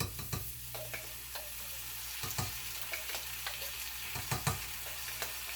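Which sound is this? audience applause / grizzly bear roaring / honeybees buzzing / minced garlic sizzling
minced garlic sizzling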